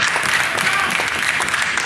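Audience at a meeting of provincial delegates applauding briefly, a dense patter of clapping at moderate level with no voices standing out.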